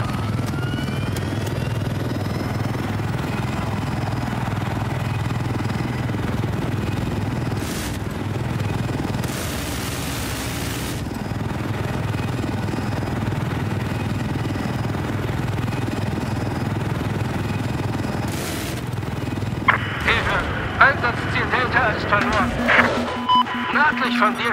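An enemy aircraft in a video game drones steadily as a rotor-like engine hum, with brief radio-style bursts and a voice speaking over it, ending in scattered crackling impacts.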